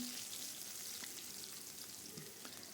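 Mustard seeds, cumin, garlic paste and finely chopped onion sizzle in hot oil in a pan for a curry, a steady close-up frying hiss with a few faint pops and stirring touches, no voices.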